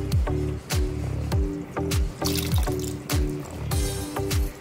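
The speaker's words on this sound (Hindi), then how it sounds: "ये इसमें मैं पानी ऐड कर रही हूँ" Water added to a homemade plum and tamarind chutney in a pan, heard as splashing, trickling pours and wet squishes in an uneven rhythm, close by and moderately loud, with no talking.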